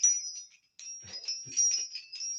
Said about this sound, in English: Can you hear the bells tingling?